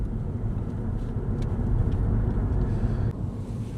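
A small car, a Hyundai Inster, drives along narrow Irish country roads near Fethard, its steady low engine and road rumble continuous and close throughout, with no talking.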